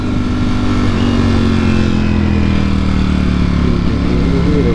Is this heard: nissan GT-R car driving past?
yes